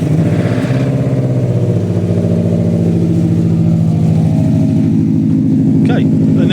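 Subaru Impreza STi Prodrive engine running right after starting, a loud, steady, throaty idle that holds close and constant throughout, with brief voices over it.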